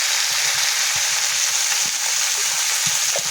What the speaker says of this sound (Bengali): হলুদটা দিয়ে ভালো করে নেড়ে চেড়ে নেব।